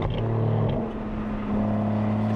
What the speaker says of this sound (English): your right foot dictates how much fun you're having, and how much that exhaust barks